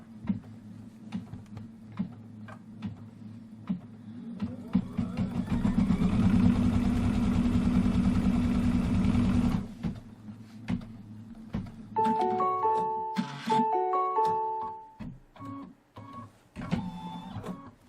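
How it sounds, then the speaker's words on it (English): An embroidery machine stitches a tack-down line on a candy corn quilt block, a rapid rhythmic mechanical chatter that builds, runs for about five seconds and stops, followed by a few short electronic beeps. "It's going to do a stitch line from here to here."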